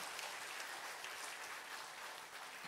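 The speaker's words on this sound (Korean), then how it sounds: "우리 하나님 앞에 감사의 박수 한번 해드릴까요?" A church congregation claps together in sustained, even applause that sounds distant and fairly faint in a large worship hall.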